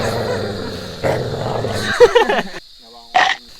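A dog gives a few short, sharp barks or yips at close range, partly mixed in with people talking loudly nearby.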